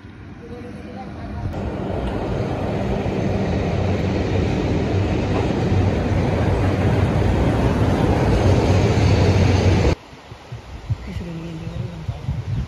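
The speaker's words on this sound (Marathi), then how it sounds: "हे बघा रेल्वे आलेली आता इथून." A train rumbles and clatters past close to a very old bridge, loud and sustained for several seconds before cutting off, while people nearby shout and talk by the water.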